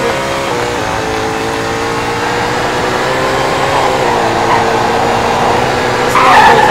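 A car in a racing video game drones with a steady engine whine and tire hiss that swells slightly, ending in a brighter skid-like scrape, loud and without talk.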